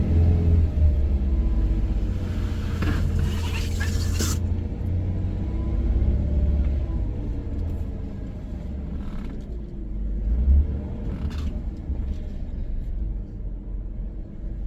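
An off-road vehicle grinds up a steep trail in low gear, its engine rumbling steadily and surging briefly as gears shift, with bumps and knocks from the rough ground.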